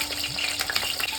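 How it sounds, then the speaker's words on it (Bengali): Raw green banana pieces frying in a mix of mustard oil and white oil for a milky shukto, a steady close sizzle with faint stirring, no voices. "এরপর আমি ভেজে নেব কাঁচা কলাটা।"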